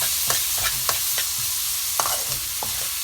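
Onions for pav bhaji cooking in a pan make a loud, steady sizzle, with occasional soft scraping taps of a stirring utensil on top. No voices are heard.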